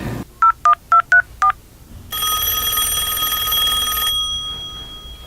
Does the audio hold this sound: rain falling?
no